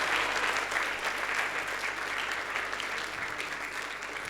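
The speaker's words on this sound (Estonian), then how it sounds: "teeme veel ühe aplausi, millega me nad ära saadame" A Playback Show audience gives sustained, dense applause, loud and even throughout with no pauses.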